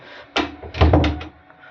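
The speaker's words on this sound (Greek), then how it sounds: "Βγες έξω γρήγορα και να κλειδώσω την πόρτα." A house door is pushed shut and locked, giving a sharp knock followed by a heavier thud and a few rattling clunks, all close and brief with no voices.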